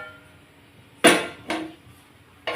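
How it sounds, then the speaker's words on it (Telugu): A pan set down on a home kitchen stove for an egg omelette curry, heard as one loud metallic clunk followed by a softer knock and a third clank at the end, close and distinct in a quiet room. "ప్యాన్ పెట్టేస్తాను"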